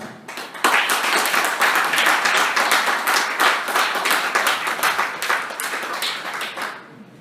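A church audience claps warmly to welcome a pastor at a revival service, a loud full burst of many hands with sharp individual claps standing out, swelling at once and easing off toward the end.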